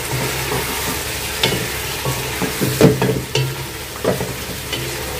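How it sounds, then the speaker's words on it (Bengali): Ghee with cinnamon and cardamom sizzles in a hot pan for a chicken curry, a steady close frying hiss broken by a few sharp spatula scrapes and stirring knocks, with no voices. "এখানে জাস্ট আমি একটু ঘি আর একটু দারচিনি দিয়েছি, একটু এলাচ দিব"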